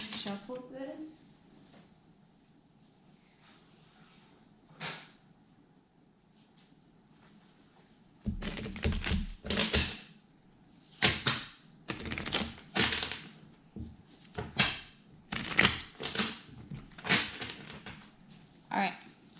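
A tarot card deck is shuffled by hand, producing bursts of rapid papery riffling and tapping from about eight seconds on, loud and close, after a quieter stretch with a few soft taps.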